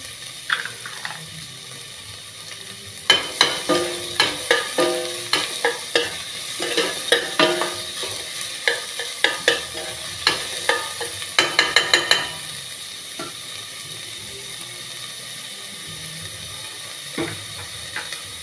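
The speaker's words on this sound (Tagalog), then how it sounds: "Brown natin ng kaunti. Red onion." Red onion browning in a pan for a Christmas pasta sauce, with a steady close sizzle and a rapid run of scraping spatula stirs in the middle that fades to quiet frying near the end.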